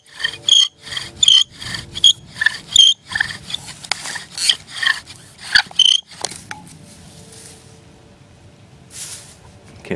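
A wooden bow drill spins in its socket and notch, making rhythmic back-and-forth rasping squeaks, about a dozen close, loud strokes over six seconds. Then it stops, and only quiet handling noise follows.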